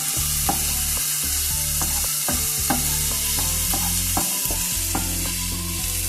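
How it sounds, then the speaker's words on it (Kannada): Chopped capsicum and green chillies frying in a pan with onion, a loud, steady sizzle with regular scraping stirs of a spatula, close and continuous with no talk. "ಸ್ವಲ್ಪ ಕ್ಯಾಪ್ಸಿಕಮ್ಮು ಮೆಣಸಿನ್ಕಾಯಿ ಹೆಚ್ಚಿರುವಂಥದ್ದು ಸ್ವಲ್ಪ ಚೆನ್ನಾಗಿ ಹುರ್ಕೋಬೇಕಿಲ್ಲ"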